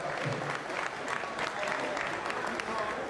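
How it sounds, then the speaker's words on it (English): Crowd applause at a Misfits x DAZN X 004 press conference for a Slim Albaher vs. Tom Zanetti boxing card, a steady wash of clapping with some voices mixed in. "Round of applause for B. Dave, people."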